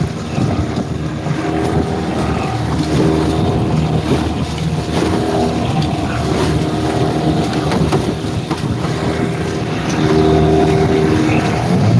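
Wind gusts roar steadily across the microphone outdoors by the water on a fishing trip, a loud continuous rush mixed with a low motorboat engine drone throughout, with no one talking.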